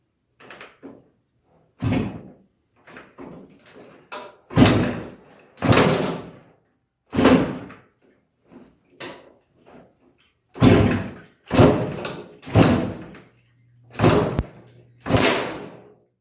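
A 1972 Suzuki TM250J motorcycle is kick-started with kickback, heard as about a dozen loud, close mechanical thumps and clunks in irregular bursts separated by short silences, without a steady engine note.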